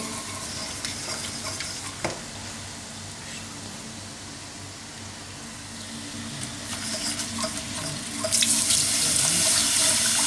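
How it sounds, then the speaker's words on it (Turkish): Cold milk poured into a pan of roasted flour to make béchamel for hünkar beğendi, a continuous watery pouring and splashing that swells louder near the end. "onu da kavruldu bunu da sütünü vereceğim şimdi"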